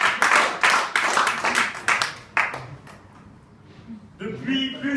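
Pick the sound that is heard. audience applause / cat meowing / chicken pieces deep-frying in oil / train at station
audience applause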